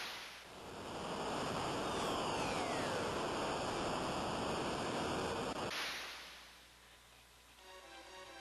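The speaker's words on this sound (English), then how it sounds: "So now we're going to jump down a waterfall." A rushing waterfall in the Final Fantasy IV video game roars as a steady broad wash of water noise, swelling in, holding loud for several seconds, then cutting off abruptly to a quieter background.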